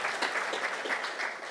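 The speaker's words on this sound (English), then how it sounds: "Let's clap again to thank you for his." Audience applause at an academia public-private partnership forum, a sustained, even patter of many hands clapping at close range.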